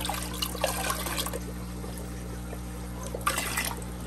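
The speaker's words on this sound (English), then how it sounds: "I'm gonna put him in a little bit of water in the bowl." Water for a small redtail catfish being handled in a shallow bowl, heard as faint trickling and splashing over a steady electrical hum, loudest at the start and again near the end, with no talking.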